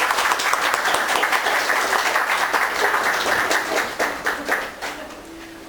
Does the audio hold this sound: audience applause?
yes